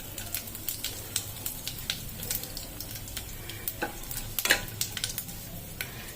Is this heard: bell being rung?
no